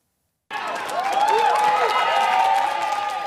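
Crowd at a Social Democrats (SPD) German state election victory event applauding and cheering, a sudden loud wall of clapping with rising shouts and whistles that starts abruptly and holds steady, with a voice talking over it.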